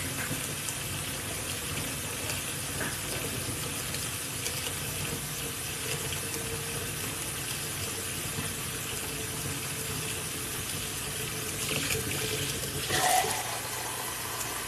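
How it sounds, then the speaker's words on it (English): Tap water runs hard into a sink in a loud, continuous rush that swells briefly near the end, and no one speaks. "The water's not gonna be on forever."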